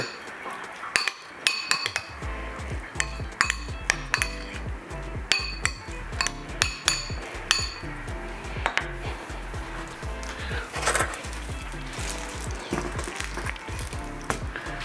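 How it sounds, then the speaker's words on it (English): Bulgur stirred in a metal pot with a spoon, producing a close run of repeated clinks, taps and scrapes against the pot in an uneven rhythm, with no speech. "I'll give this a little stir."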